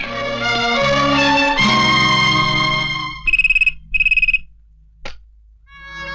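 An electronic telephone ringtone in a Hindi film scene plays as a loud, bright warbling tone, then breaks into two short rapid trilling bursts, a brief click, and a faint ring again. No talk is heard over it.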